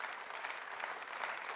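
Quiet, distant applause from a church congregation, a continuous patter of many hands clapping at a low, even level for a brief stretch.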